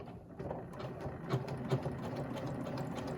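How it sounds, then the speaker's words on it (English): A sewing machine stitches quilt binding through a binder attachment, running in a quiet, steady mechanical whir with faint rhythmic ticking throughout. "We're ready to sew, and now we can begin to sew."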